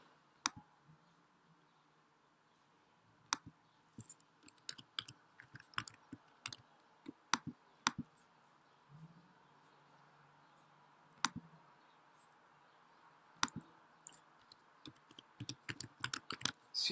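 An email address being typed on a computer keyboard: quiet, close key clicks in irregular bursts and scattered single taps across the span, with a faint low room hum beneath and no talking.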